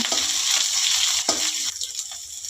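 A spoon stirs onion, black pepper and cumin in a hot pan, giving close scraping strokes over a constant sizzle in a brief burst of cooking.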